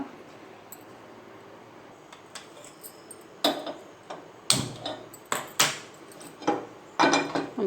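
A non-stick frying pan is set on a kitchen stove for frying small fish, giving a few sharp metallic knocks and clunks with short ringing decays over soft background hiss, close and loud, without talking.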